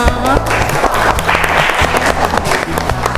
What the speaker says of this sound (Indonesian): Oke, kita tepuk tangan untuk kita semua.